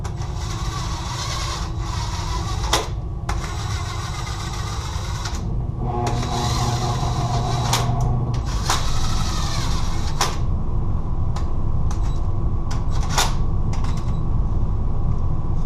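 Torque wrench pulling down cylinder head bolts on an LS2 V8 engine during assembly, heard up close as steady ratcheting and mechanical creaking with several sharp clicks, loud and continuous.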